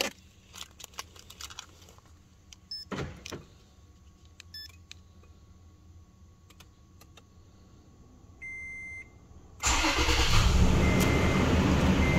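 A 2011 Toyota Tacoma started by remote start: quiet clicks and beeps, a short whirring crank, then the engine catches and settles into a steady, fairly loud idle.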